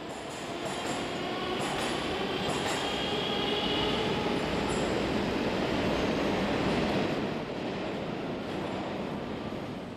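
A Moscow Metro train rumbles steadily along the track, with a sustained roar, faint wheel squeal and occasional rhythmic clacks, no voices.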